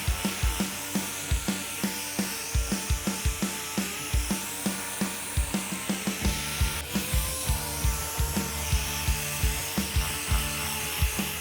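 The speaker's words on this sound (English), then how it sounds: "While sanding chrome, I'm gonna start with 80 grit like I said earlier." Rhythmic, steady sanding strokes with 80-grit paper on a hard chrome bumper of a 1969 Dodge Dart, a rapid scratchy rasp repeating over and over, close by with no talking.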